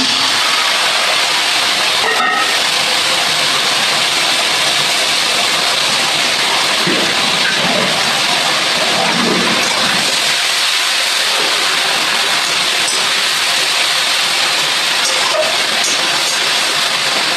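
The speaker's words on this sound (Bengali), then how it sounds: "এবার রসুন পেঁয়াজ টমেটো কাঁচা লঙ্কা এগুলো ভালো করে ভেজে নেবো।" Garlic, onion, tomato and green chili fry in a pan with a loud, unbroken hissing sizzle that holds steady for a long stretch, close up, with faint clinks now and then.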